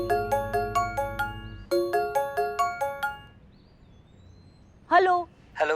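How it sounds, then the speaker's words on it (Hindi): A phone ringtone plays a repeating melodic pattern of bright chimes in two bursts, then stops; a voice speaks briefly afterward. "तुम्हारे ही फोन आ रहे हैं बार बार,"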